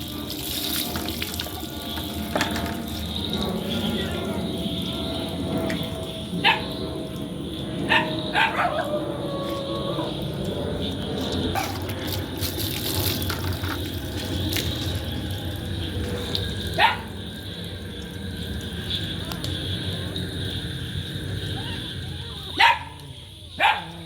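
A rescued puppy gives a few scattered short barks over a steady stream of running tap water, with the barks sharper and closer near the end.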